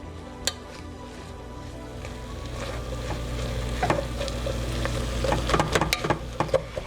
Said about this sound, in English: I'm going to continue to brown this until the onions are done, till the onions are translucent